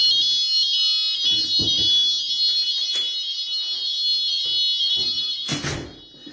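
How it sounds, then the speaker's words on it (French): A building fire alarm rings continuously, a loud steady electronic tone filling the room, while a person moves about and handles things nearby. "Quand ça sonne, c'est que ça signifie qu'il y a une alarme."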